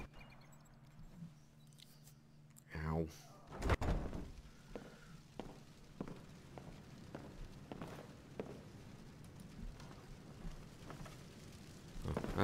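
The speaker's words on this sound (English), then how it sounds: "Door open." A door swinging open in Skyrim, a brief creak followed by a heavy thud, then scattered soft footsteps and small knocks against a quiet, low ambient hum.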